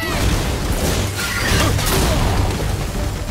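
Explosions rumble in God of War, a sustained barrage of heavy booms and crashing bursts rolling on continuously at a loud level, with no clear speech over them.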